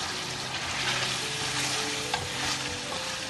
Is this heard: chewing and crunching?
no